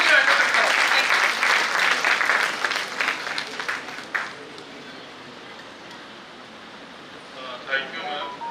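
Audience applause at a national seminar hall, a broad steady clatter of many hands for about four seconds before fading into quiet room tone, with a brief later flutter of clapping.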